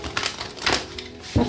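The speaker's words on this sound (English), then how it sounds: "Okay, 2 more shuffles." Tarot cards shuffled by hand in quick riffling bursts, a few crisp papery flurries close to the microphone with brief pauses between them, before a voice briefly begins to speak.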